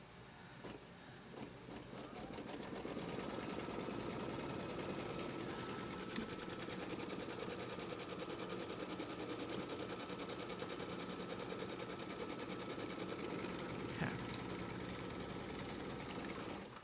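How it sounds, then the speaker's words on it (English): Embroidery machine stitching the outer line of a quilt block, a fast, steady mechanical rattle of needle strokes running continuously at close range with no talking. "let's put the foot down. And let's keep stitching this outer stitch line down"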